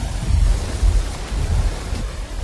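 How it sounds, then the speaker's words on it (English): Heavy tropical wet-season rain pours down in northern Queensland, a dense hiss layered over deep, rolling rumbles of nearby thunder that swell and fade with no voices present. "The rain falls hard."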